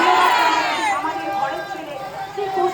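Crowd noise from a women's rally procession moving through Barrackpore, a dense wash of many voices chattering and calling out together, fairly close and steady throughout with no single voice standing out.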